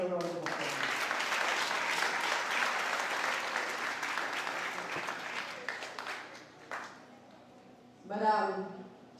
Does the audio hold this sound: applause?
yes